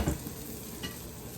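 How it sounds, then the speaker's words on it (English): Cornmeal cornbread batter sizzles steadily in hot frying grease, a close, continuous crackling hiss with a brief louder splash at the start. "Listen to that sizzle."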